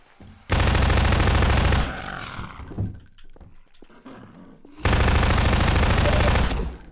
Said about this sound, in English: The fucking SMG shooting is so loud.